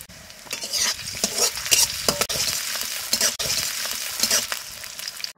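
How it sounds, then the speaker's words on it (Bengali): Chopped garlic, chili and ginger sizzle in hot oil while being stirred in a pan, a steady bright frying hiss with repeated scraping stir strokes throughout, close and fairly loud with no talking. "ওই তেলে দিয়ে দেব রসুন কুচি, লঙ্কা কুচি, এবার দিচ্ছি আদা কুচি"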